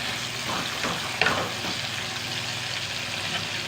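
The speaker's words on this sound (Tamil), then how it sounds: "மாங்காய் கொஞ்சம் துண்டு போட்டுட்டு அதையும் நல்லா வதக்கிடலாம்" Mango pieces sizzle and fry steadily in a pan while being sautéed for a Kerala fish curry, a continuous hiss with faint stirring scrapes and one brief louder clink partway through, no voices.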